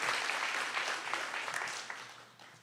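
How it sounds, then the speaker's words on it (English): Audience applause at a class of 2021 nursing pinning ceremony at Morton College, a dense crowd of clapping heard fairly close and steady, tapering off toward the end. "You guys could clap."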